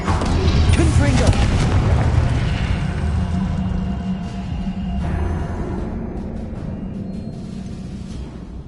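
A Confringo fire spell exploding in the Hogwarts Legacy video game, heard as a loud, deep boom that rolls into a rumbling decay, with a second burst midway, while a voice talks over it.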